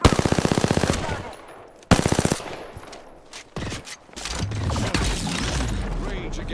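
Rapid gunfire in the video game Final Fantasy XVI: a loud automatic burst, a sharp pause, then further shots and rattling bursts close up, with a voice faintly present.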